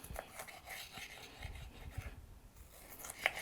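A knife cuts a bell pepper into strips on a cutting board, making quiet, irregular taps and slicing crunches close by, with a small sharp click near the end and no speech.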